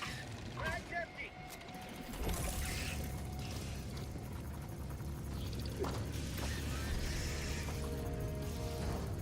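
A weapon reloading after an emptied magazine in Helldivers 2 gives quick metallic clicks and ratcheting mechanism sounds under steady battle noise, with people talking over it.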